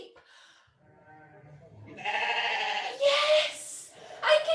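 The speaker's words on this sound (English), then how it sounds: "I can hear the sheep" Sheep bleating in a children's animal dance class, a few wavering bleats growing louder toward the end, with faint background sounds before them.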